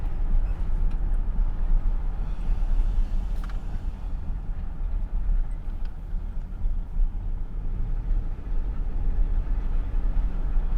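A BMW with a newly replaced fuel pump driving around the block, a constant low road and engine rumble heard from inside the cabin, with a few faint clicks and no talk.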